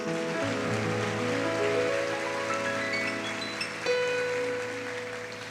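A church congregation gives a dense, steady wash of applause that sounds almost like rain, with sustained keyboard chords ringing underneath.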